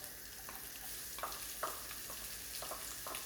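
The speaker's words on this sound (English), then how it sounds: "So I'm gonna fry until it goes nice and golden brown." Finely chopped onions fry in a kadai with a steady, close sizzle, broken by brief crackling bursts as they are stirred. No one speaks.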